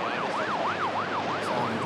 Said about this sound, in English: the ambulance has just arrived now